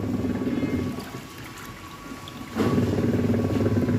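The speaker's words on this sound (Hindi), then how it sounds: "देखिए मैं साथ साथ में इसको ड्रेन कर दे रही हूँ, ये पानी ड्रेन हो जाएगा" Dirty wash water draining out of a washing machine during a beginner's clothes wash, a steady rushing, gurgling flow that eases for a moment and then surges louder again, with no talking.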